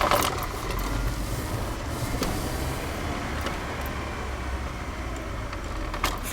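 A car engine runs steadily while driving without a working clutch after running out of clutch fluid, a continuous low road and engine drone with no speech over it.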